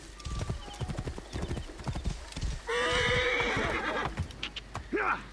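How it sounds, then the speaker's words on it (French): A horse in Assassin's Creed Origins clip-clops in quick, close hoofbeats, then gives a loud drawn-out neigh midway, with another short whinny near the end. "Est-ce qu'il est mon cheval?"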